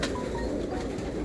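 Indian Meerut gola pigeons coo softly in a steady, low murmur, a close, continuous cooing bed with no talk.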